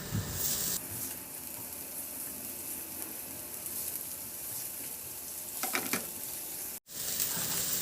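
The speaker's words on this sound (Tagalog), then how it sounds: "Sa disim na kawali, igisa ko na yung bawang." Garlic sautéing in a dark pan for sarciadong hipon gives a steady soft sizzle throughout, with a brief stir or scrape of utensils near the end.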